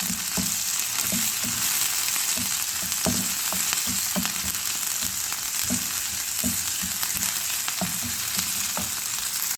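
Chicken and garlic fry steadily in a pan, a dense continuous sizzle with soft scattered stirring taps throughout, close and alone.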